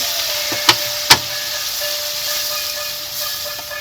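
Water poured onto onions and ground spice paste frying in a pan, producing a steady hiss of steam and sizzle throughout, with two sharp clicks near the start.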